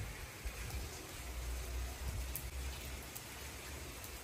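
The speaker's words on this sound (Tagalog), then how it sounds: "bigla pang umulan. Oh my God! Biglang bumagyo." Heavy rain pours down during a sudden storm in Spain, a steady, dense hiss with a low rumble that stays constant throughout, with no voices.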